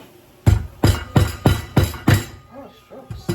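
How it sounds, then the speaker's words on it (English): A rubber kitchen hammer chops corn for a Caribbean soup, striking seven or eight times in a steady rhythm, each hit a close, dull thump, with a brief murmur of voice between later blows. "This is my rubber hammer for the kitchen."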